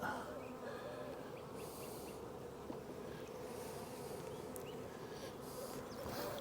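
Honey bees buzz in the weeds around backyard hives, near a swarm trap, making a steady, unbroken drone with a few louder passes close by.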